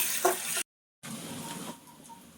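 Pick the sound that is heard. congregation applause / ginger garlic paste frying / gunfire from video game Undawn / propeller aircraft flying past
ginger garlic paste frying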